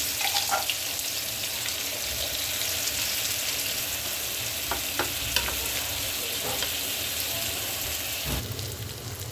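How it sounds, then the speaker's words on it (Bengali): Onions and green chilies sizzle in hot oil beside frying puti fish in a pan, a steady dense crackle with a few sharper pops and stirring scrapes throughout. "পেঁয়াজ কাঁচামরিচ ভাজবো"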